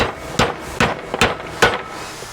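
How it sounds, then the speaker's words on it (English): Four sharp metal-on-metal taps, spaced fairly evenly and close by, as a hammer seats bushings into the bushing collar of an aftermarket forward control arm for a CFMOTO UForce U10 Pro. "you can get them fully seated using a hammer just by tapping it down into place"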